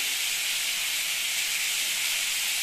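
Onions and tomatoes sautéing in hot oil for kara chutney, a loud, steady, unbroken sizzle close to the pan with no other sounds.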